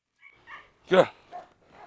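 Several dogs, including a cane corso, eating raw chicken drumsticks, with short yips and whimpers and one louder bark-like sound among brief scattered noises, close by with no talk.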